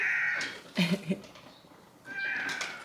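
A cat meows a few times, a drawn-out high call followed by shorter cries, fairly close and with no talking.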